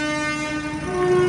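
A train passes close by, sounding a loud, sustained horn over the low rumble of its wagons, the tone holding steady with a slight shift in pitch near the end.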